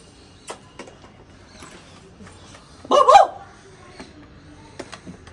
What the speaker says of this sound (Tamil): எப்படி கத்துது நாய்?